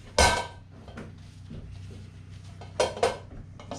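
A hot pan of Pommes Anna flipped over: a loud metallic clank of the pan, a softer knock, then two more clattering thuds of metal against a surface, with a low kitchen hum beneath.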